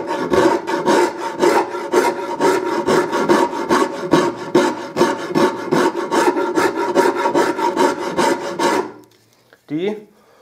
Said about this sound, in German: Dann hier so eine japanische Bildhauerraspel.